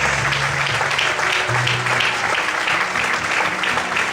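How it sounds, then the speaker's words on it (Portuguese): A church congregation applauds loudly and continuously during a worship service, with a dense, even wash of clapping and faint voices mixed underneath. "Vamos poder aplaudir e exaltar o Senhor bem forte."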